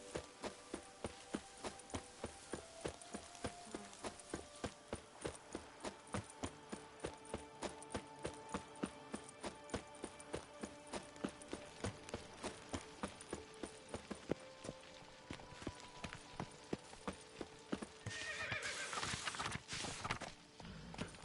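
A horse galloping in The Witcher 3, a steady, regular stream of hoof beats throughout, moderately loud with game ambience underneath and a brief burst of louder noise near the end; no neigh stands out.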